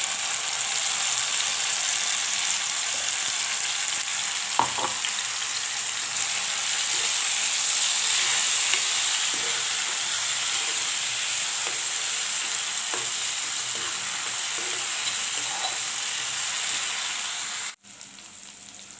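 Blended tomatoes hiss and sizzle in a hot pan with potatoes for a dried fish sukat dish, a loud steady frying sizzle with a few faint clinks of stirring, close and continuous until it cuts off near the end.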